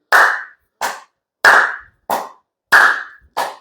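Hands clap in a seated exercise, six crisp, close claps alone in a steady rhythm that alternates one loud, ringing clap with one lighter clap, separated by clean silence.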